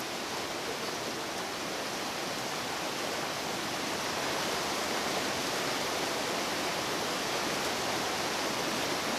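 Sipi Falls, a three-tier waterfall on the edge of Mount Elgon National Park in Uganda, roars as a dense, steady, loud rush of falling water with no break or voices.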